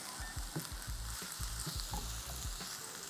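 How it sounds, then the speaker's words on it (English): Onions and garlic sauté in a pan for breadfruit fritters, a steady soft sizzle with regular low thumps of stirring, close and alone. "we just want to saute this until the onions go translucent"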